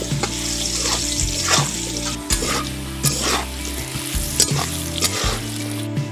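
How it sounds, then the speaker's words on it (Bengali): Potatoes fry in hot oil seasoned with salt and turmeric, giving a steady, close sizzle broken by repeated scraping stirs at roughly one-second intervals, with no talking. "এবার আমি আলুগুলো ভেজে নেব তেলের মধ্যে লবণ আর হলুদটা দিয়ে দিলে"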